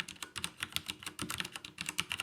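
Rapid typing on a mechanical keyboard fitted with light Cherry Red linear switches, a steady run of crisp, close clicks and clacks with quick rebounds and no voices.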